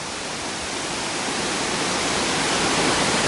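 A small secondary waterfall on the Ramsey Cascades trail roars as a dense, steady wash of falling water, close and loud, growing slightly louder toward the end with no voices.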